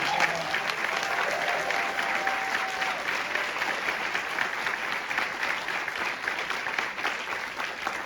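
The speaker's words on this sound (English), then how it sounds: "Let's give them one more big round of applause." Graduation ceremony crowd clapping continuously, a sustained, fairly loud roar of many hands with faint cheering underneath.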